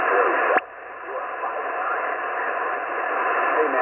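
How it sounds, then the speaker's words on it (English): Amateur radio receiver playing loudly, a steady band-limited hiss of static and faint signal that continues without a break after a brief click near the start. "Oh, the radio's a lot louder."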